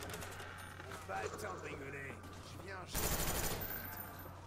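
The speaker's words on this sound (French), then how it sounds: "Le FAMAS, les balles partent énormément vite." Rapid automatic fire from a FAMAS rifle in the zombie mode of Call of Duty: Black Ops, loud bursts of rapid shots in a busy game mix with a sharp, louder burst near the end and talk running over it.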